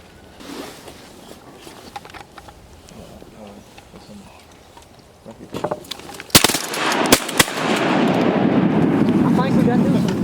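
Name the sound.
shotgun firing at ducks during a duck hunt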